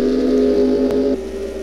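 Steady tonal whine of an F1 race car engine in a video game, holding a sustained pitch that drops a step just past the midpoint, loud and alone for under two seconds.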